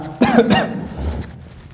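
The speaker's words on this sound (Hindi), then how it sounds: "थोड़ा सा खांसी दिक्कत कर रही है" A single close, harsh cough, with a brief throaty rasp just after.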